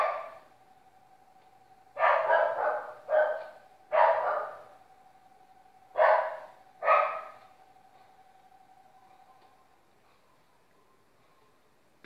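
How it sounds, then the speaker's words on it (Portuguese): A female dog barks in short bursts: a pair, then single barks and another pair, spaced by quiet gaps over a faint steady hum. "minha cachorra tá latindo ali"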